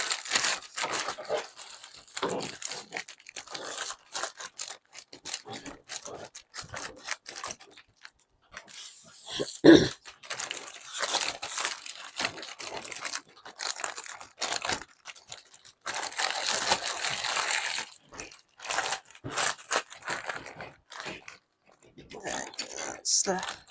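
A Warhammer miniatures box holding Chaos Terminators is cut open, giving irregular crinkling, crunching and tearing of packaging close by, with voices talking throughout.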